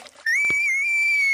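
A person playing a climbing video game lets out a sudden high, sustained scream that holds steady for about a second, loud and close, after a brief burst of noise.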